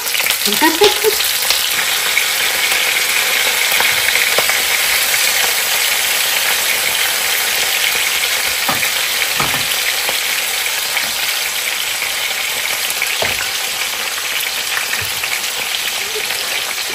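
Banana-leaf-wrapped hilsa fish parcels frying in a pan over medium-low flame give a steady, loud, continuous sizzle with occasional faint pops and crackles throughout.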